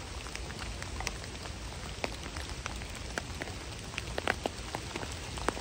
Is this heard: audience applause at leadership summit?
no